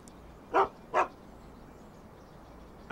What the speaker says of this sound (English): There is a dog here.